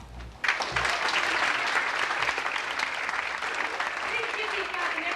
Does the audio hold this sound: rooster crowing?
no